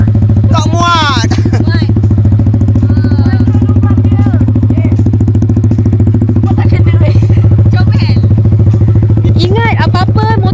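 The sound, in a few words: motorcycle engine running during riding lesson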